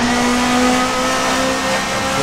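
Race cars in a Formula Masters sim racing event at Interlagos, a loud steady high-revving engine drone with no talk.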